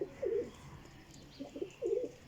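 Nearby pigeons in a loft coo in soft, throaty bursts, one at the start and a couple more toward the end, over faint background hiss.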